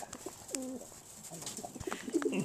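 A silver pigeon, a fighting and biting bird, coos in a few short warbling bursts close by, with soft rustling and faint background noise between calls.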